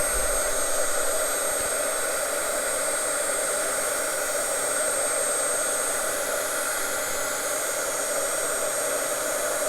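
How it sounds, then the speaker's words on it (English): Heat gun melting embossing powder on a stamped card, a steady close whooshing blower hum held at an even level with no talk. "And I'm just heating up my heat gun. And let's melt that powder."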